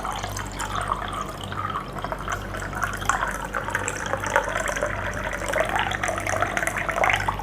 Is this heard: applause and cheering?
no